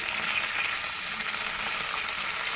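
Red chilli and ginger pieces fry in oil with green chillies and coriander, making a quiet, even, continuous sizzle that stays constant throughout.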